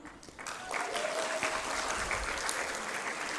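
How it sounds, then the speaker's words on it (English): An audience at a conference session on women and the future of work breaks into a round of applause, steady and fairly close clapping that swells after a quieter start and continues evenly for a few seconds. "So can we hear round of applause of how much energy are we having right now?"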